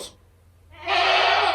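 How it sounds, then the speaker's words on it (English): Goats bleat nearby in one loud, sustained, raspy call that follows a brief faint sound and a moment of near-quiet. "Hey, goats."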